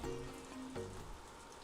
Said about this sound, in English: Love when it rains.